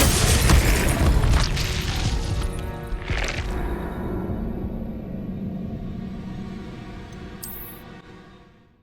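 An Incendio fire spell is cast in Hogwarts Legacy: a heavy booming burst of flame opens loud, then a rumbling roar with a second whooshing flare follows and slowly dies away over several seconds, ending with a brief high chime.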